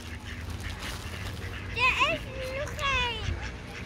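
Ducks quack in short nasal bursts while being fed bread amid a busy outdoor background, with children's voices chattering nearby.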